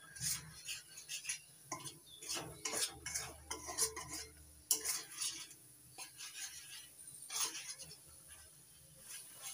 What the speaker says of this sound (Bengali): এবার সব মশলা একসঙ্গে ভালো করে কষিয়ে নেব।